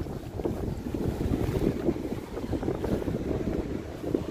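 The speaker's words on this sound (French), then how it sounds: "Il y a trop de vent, hein." Strong wind gusting across a rocky coastline at Pen Bron, facing Le Croisic, a steady loud roar buffeting the microphone throughout with sea and surf in the background.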